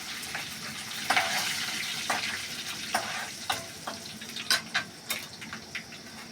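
Mustard seeds, asafoetida and spices sizzle and crackle in hot oil for banana flower curry, a steady frying hiss broken by sharp pops and a few stirring clinks, heard close up.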